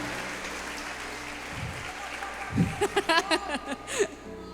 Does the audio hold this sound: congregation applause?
yes